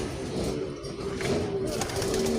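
Racing pigeons back from a training flight coo softly and repeatedly in their loft, with steady background noise and a faint engine hum underneath.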